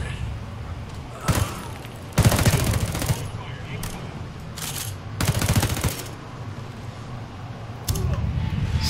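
Gunfire and mortar fire in the video game Ghost Recon Wildlands comes in several sharp rattling bursts separated by quieter gaps, with someone talking in between.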